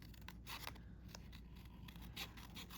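Scissors fussy cutting paper for handmade Valentine's cards, a faint close series of soft snips and paper rustles at an uneven pace, with no talking.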